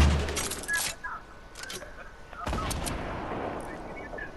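Gunfire in the Fortnite video game: several sharp shots, a burst near the start and more cracks around the middle, with people talking among the game sounds.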